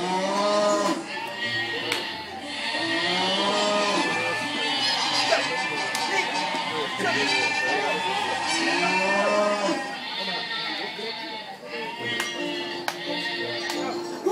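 Several cattle moo repeatedly, loud and close, their long lowing calls overlapping, with a few bleats mixed in among the herd.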